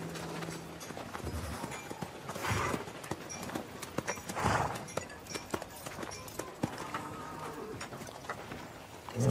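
Horse hooves clip-clop in an irregular walking rhythm over outdoor ambience, with birds cooing nearby and occasional faint voices.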